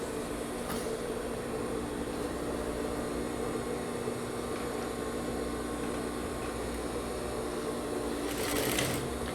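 Steady mechanical whir of a sewing machine running continuously while stitching a long-sleeved military-collar blouse seam, a constant even hum throughout with a slight swell near the end.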